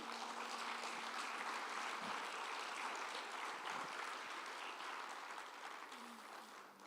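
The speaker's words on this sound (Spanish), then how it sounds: "¿Le podemos dar un fuerte aplauso al Señor ahí?" Church congregation applauding during a sermon, a sustained, even patter of many hands heard from a distance, tapering off gently at the end, with a faint voice briefly underneath.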